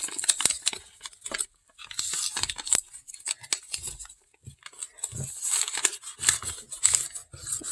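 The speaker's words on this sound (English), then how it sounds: "fold it back, and then reverse fold this" Origami paper being folded back and reverse folded while shaping a transformable Starscream figure: close, irregular crinkling and crisp paper rustles with brief rubbing scrapes, no talking.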